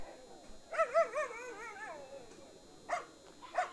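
Galgo Español greyhounds in a race starting box give high, wavering whimpers and yips in a short burst, then fall quiet before two more sharp yelps, fairly close and alone without talk.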